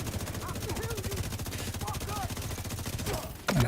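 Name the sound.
gunfire shooting an enemy in a video game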